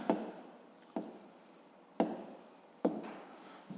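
A math solution for a grade 5 exercise is written by hand, with pen strokes arriving in four short bursts, each starting with a sharp tap and scratchy trailing scrawl, close and quiet with no talking.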